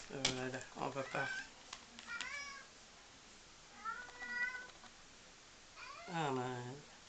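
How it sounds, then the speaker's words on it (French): Domestic cat meowing indoors in several separate drawn-out calls, close and fairly quiet, with pauses of near silence between them. "si vous entendez, c'est mon chat qui vient d'arriver"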